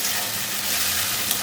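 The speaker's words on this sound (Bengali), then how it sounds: "একটু জল দিয়ে মশলাটাকে কষিয়ে নেব।" Spice paste of ground turmeric, chopped tomato and a splash of water sizzling steadily in a pan, a dense continuous frying hiss throughout with no talk.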